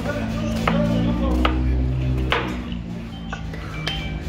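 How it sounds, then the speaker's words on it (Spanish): A kitchen knife chops onion for a large batch of tostadas, several sharp, irregular strikes on the board over a steady low background hum. "chequen cómo está picando la cebolla"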